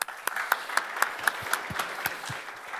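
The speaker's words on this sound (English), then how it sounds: "Big applause for Ying Tong." Sparse, fairly quiet applause for a panelist at a cryptography conference panel in Berlin, made of distinct individual claps in an uneven rhythm fading after a few seconds.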